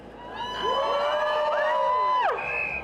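A crowd cheers and whoops at a protest rally, with bright rising and falling shouts, some sounding like children, swelling together over a few seconds before a sharp drop near the end.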